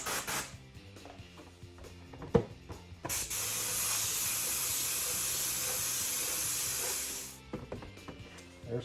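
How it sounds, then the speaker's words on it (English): A spray can of silver paint hisses in one long, steady burst of about four seconds onto a model drag car body, close by, with light clicks and handling noises before and after. "let's get to spraying some silver paint"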